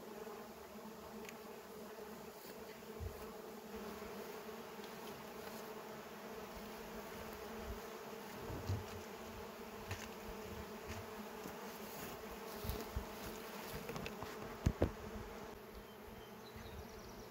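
Honeybees buzz continuously around an opened hive during a check for laying queens, a dense steady drone with a few close passes and faint handling knocks near the end, no talking.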